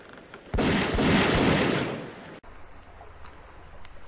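Cannon fire in a Lego pirate sea battle comes as one loud, sudden roaring blast that swells and holds for nearly two seconds before cutting off, leaving a low rumbling background.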